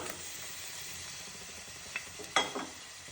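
Four small dried red chillies with curry leaves frying in hot oil, a faint steady sizzle broken by a few sharp crackles and pops near the end.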